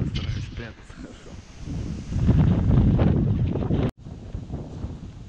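Strong gusty late-autumn wind on a lake during a November duck hunt roars and buffets the microphone in heavy surges, swelling louder midway before cutting off briefly and returning.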